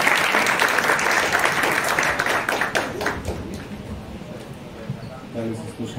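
An audience applauds at a blockchain and Web3 presentation, dense clapping that starts loud and gradually thins and fades, with a voice speaking over it near the end.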